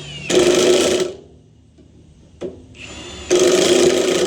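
A power tool whirs loudly in two bursts while parts are tightened down on a Jansen wood chipper during blade and belt changes, with a short clack and a quieter hum between.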